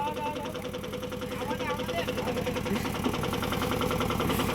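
A mini tractor's engine idles with a steady, low, chugging throb that holds an even rhythm throughout, while voices talk over it.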